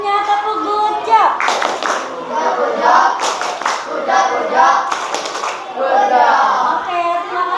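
Children in a classroom doing a rhythmic patterned clap, several bursts of quick group claps separated by chanting voices and talk.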